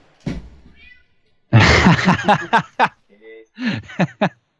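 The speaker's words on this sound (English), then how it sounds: "we heard the cat" A house cat meows several times in quick succession, close and fairly loud, with short chirpy calls trailing off in a burst near the end; a brief voice sounds at the start, but no talk runs under the meows.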